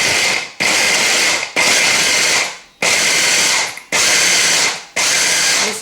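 A food processor chops onion in five or six loud whirring bursts of about a second each, separated by short pauses, with no talking.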